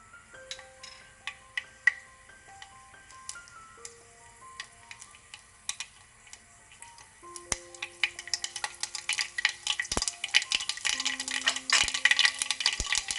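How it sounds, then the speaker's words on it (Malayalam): Mustard seeds pop and splutter in hot coconut oil, sparse crackles at first that quicken into a dense, rapid sizzle of tiny bursts. "കടുക് പൊട്ടി വന്നിട്ടുണ്ട്."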